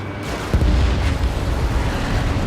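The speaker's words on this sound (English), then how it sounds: "Missile launched." A missile launch in Ace Combat 7, a sudden low whooshing burst that settles into a sustained roaring rush over steady jet noise, loud and close.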